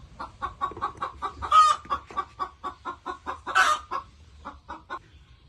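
Native local-breed chickens on a farm cluck in a steady, rapid series of short calls, with two louder squawking bursts partway through, fairly close and with no talking.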